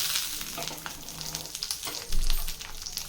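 Shallots, garlic and capsicum sauté in a hot pan with black urad dal for a chutney, giving a steady close sizzle and crackle with soft stirring scrapes and a brief louder stir near the end.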